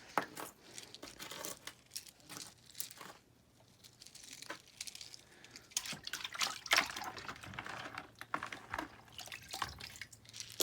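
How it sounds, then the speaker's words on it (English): Small fire agate stones from old mine-run bags are washed by hand in water, giving close, wet splashing and dripping with rattly clinks and crinkly rubbing that swell and fade, with no voices. "I'm gonna put some of this small stuff in my hands and wash it up"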